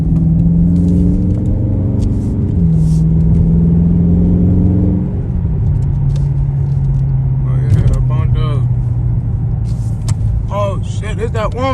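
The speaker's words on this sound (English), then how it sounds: "There's that one super fast Hellcat" At night in Mexico, a fast Dodge Hellcat drives past with a loud, sustained engine roar and pitch changes, passing close, while people talk over it.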